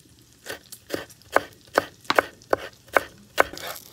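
A knife chops through onion stalk on a cutting board in steady, crisp strikes, about nine distinct close chops in a regular rhythm with no talk.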